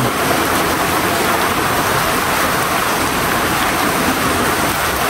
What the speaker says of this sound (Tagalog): grabe pang lakas ang ulan